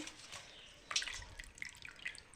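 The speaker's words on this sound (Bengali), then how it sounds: "তো এখন এই পাতাটা ছেঁকে নিতে হবে" Soft water drips and trickles as washed leaves are strained out of water, faint and close with a few light splashes and scattered droplets.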